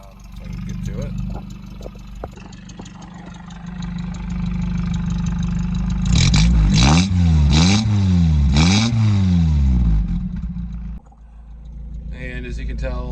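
A four-cylinder car engine with its original exhaust idles, then revs hard in four or five rising and falling bursts before settling back to idle, loud and close, with a voice heard at the start.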